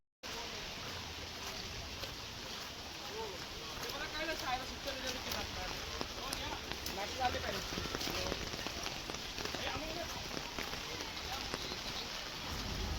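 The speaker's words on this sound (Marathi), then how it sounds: "भरपूरच पाऊस पडतो इथे विरारमध्ये" Heavy monsoon rain in Virar falls in a dense, constant roar, pattering hard on surfaces all around without letting up.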